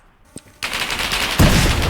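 A sharp bang, then a sudden burst of dense, rapid gunfire that gets louder and continues to the end, in the Roblox game Lost Front.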